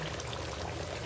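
Water splashes into a cooking pot of chicken pulao, a brief, quiet, steady pour lasting about a second.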